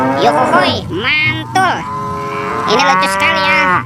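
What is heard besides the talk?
cow mooing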